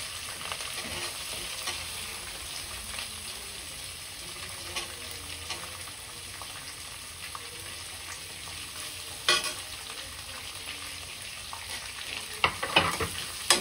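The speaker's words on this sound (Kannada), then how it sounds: "ಇದು ಸ್ವಲ್ಪ ಫ್ರೈ ಆಗೋವರೆಗೂ ಹುರ್ಕೊಳ್ಳಿ" Onions and green chillies fry in a pan for a North Karnataka dish, giving a steady soft sizzle with occasional stirring scrapes and small crackles, no talking.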